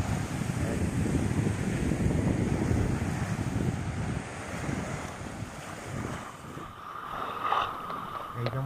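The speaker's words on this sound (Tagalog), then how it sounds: "Medyo matapang yung alon." Strong ocean surf rolling in at Stingray Beach in Pagudpud, a steady loud wash of breaking waves with wind buffeting the microphone throughout.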